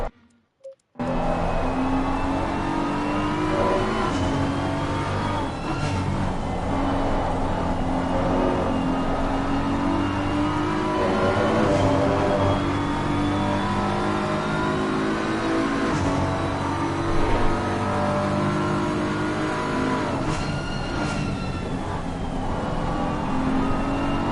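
Onboard engine of a GT race car lapping the Red Bull Ring in Assetto Corsa Competizione, a continuous loud drone rising and falling through gear changes and corners for the whole stretch, with no talk.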